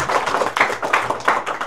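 Audience of students clapping for themselves, a short burst of brisk, fairly close applause with distinct rhythmic hand claps lasting under two seconds.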